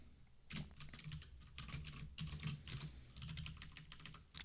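Quick, uneven typing on a computer keyboard, a dense patter of soft key clicks with short pauses, heard close and alone without speech.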